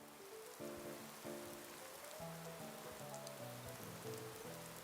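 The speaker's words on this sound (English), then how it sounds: "Just a little bit of light rain." Light rain falls steadily in Fallout 4, a broadband patter running the whole time beneath a stepping sequence of sustained low musical tones.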